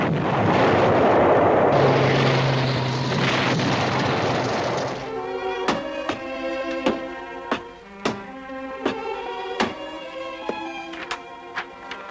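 Artillery fire in a TV war drama: a long roaring blast and rumble, then a rapid series of sharp, loud gunshot-like bangs at irregular intervals.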